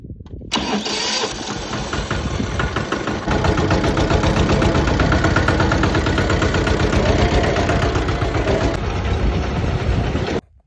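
A tractor engine runs steadily out in a farm field, a loud continuous throbbing drone that starts up and swells in the first seconds, then holds a dense, even rumble until it cuts off at the very end.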